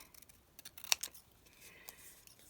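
Scissors trim a paper ticket element for a handmade card, making a few quiet, close snips with one crisp cut standing out.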